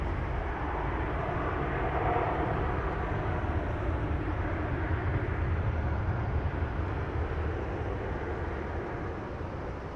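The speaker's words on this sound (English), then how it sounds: "So we have a FedEx 767 that's about to taxi." A FedEx Boeing 767 sits at Phoenix Sky Harbor International Airport before taxiing, its jet engines giving a loud, steady, broadband roar that holds unbroken throughout, with no voices.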